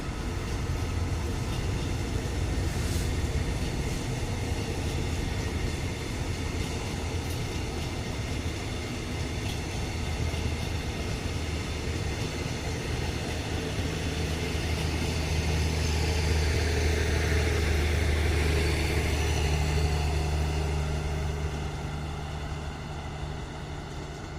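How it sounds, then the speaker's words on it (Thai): Diesel locomotive QSY5233 hauls special express train 26 on the Nong Khai to Bangkok run, a steady heavy engine rumble and rolling wagon noise lasting throughout, close and continuous and swelling slightly toward the end. "ขบวนนี้นะครับ เข้าสถานีอชุยาก่อนเวลา เกือบ 20 นาทีเลยครับ"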